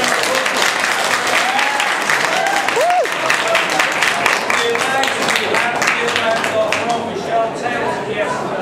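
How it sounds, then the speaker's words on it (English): An audience at a blogging-for-beginners conference session bursts into sustained applause, dense continuous clapping from a large crowd close by, with a few scattered voices and whoops mixed in. "Give us one round of applause."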